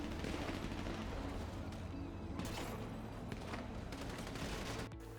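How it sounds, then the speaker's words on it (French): Gunfire during a shootout at a real estate agency, heard as a dense, continuous barrage of loud cracks and booms with heavy low rumble, steady throughout with a sharp break near the end. "Les 2 coups de feu que nous n'arrivons pas à identifier à l'image ne semblent pas provenir de la part des assaillants"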